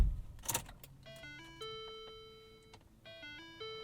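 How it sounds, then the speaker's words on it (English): Key-in warning chime of a 2012 Lincoln MKZ AWD, a soft repeating sequence of rising electronic tones sounding inside the cabin, preceded by a brief key jingle and rustle. "A little bit different than a Ford Chime."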